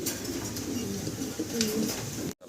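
Soft, low cooing from a pair of white fancy pigeons, a few repeated calls close by over a steady background hum.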